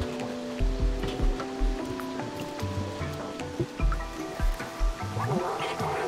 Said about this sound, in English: The soothing sound of trash falling, shimmering waterfalls